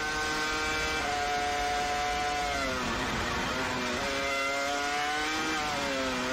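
A BMW FW26 Formula 1 car's V10 engine screams at high revs, its shrill harmonic pitch rising and dipping through gear changes and throttle lifts, loud and continuous.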